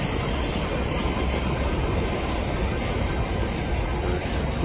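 Steady low rumble of CPKC freight locomotives running backwards nearby, a continuous broadband engine drone with no pauses or voices.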